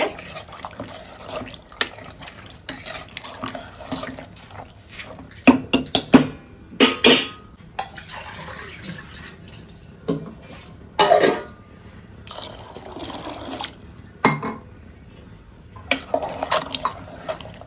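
Water pours and splashes into a cooking pot of vegetables for a fresh black-eyed pea kurma with brinjal and potato, in irregular bursts with metallic clinks of utensils, close and fairly loud.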